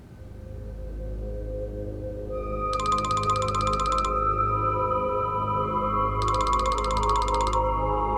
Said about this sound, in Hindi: अभी फोन मत उठाना